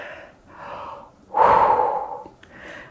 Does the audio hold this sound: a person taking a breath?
yes